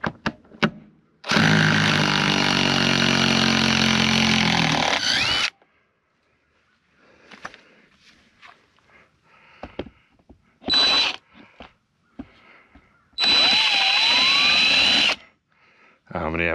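A power drill countersinks and drives a screw into house siding: a loud four-second whir, then short bursts of the motor and one final run whose pitch sweeps upward, with brief speech and handling noises between.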